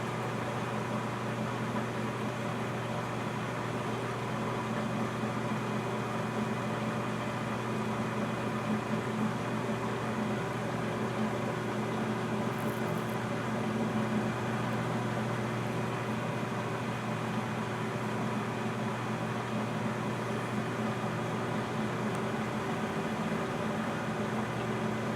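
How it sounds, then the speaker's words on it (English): A lathe knurling a Gerber knife blade retention screw gives a steady machining drone with a faint metallic rasp, running evenly throughout at moderate loudness without speech. "So there's the knurling."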